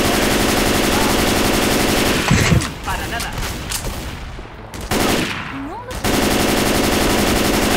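Loud automatic gunfire from a video game in long continuous bursts, cut by two short pauses filled with quieter game effects before the rapid shooting resumes.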